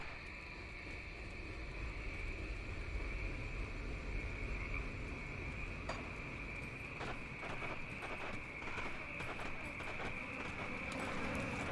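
Horse hooves clip-clop in the Grim Dawn video game, a repeating hollow clatter over a busy ambient bed with croaking sounds, and no one speaks.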